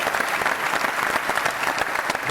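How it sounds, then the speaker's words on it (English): Steady applause from an audience at the 2023 Heisman Trophy ceremony, dense, even clapping that fills the whole stretch without a break. "How about a round of applause for everybody?"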